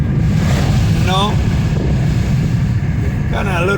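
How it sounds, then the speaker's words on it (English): Wind blows outdoors along a straight road, buffeting the microphone with a low, steady rumble and roar that persists throughout, with brief voice-like sounds in between. "Kind of a little windy."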